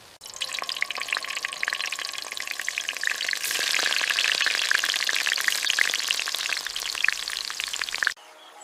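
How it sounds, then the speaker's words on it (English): Fish frying in a pan of hot oil, with a dense, steady sizzle and crackle close by that swells a little louder midway and then cuts off abruptly near the end. "Oh, look at them fry."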